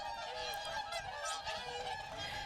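Swans honk repeatedly at Swan Lake in Russia's Altai during snowy winter weather. Overlapping nasal calls from several birds sound close, over a busy outdoor background.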